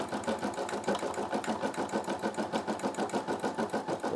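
A Brother SE600 embroidery machine sews a jump stitch with a steady, pulsing mechanical chatter, regular and close throughout.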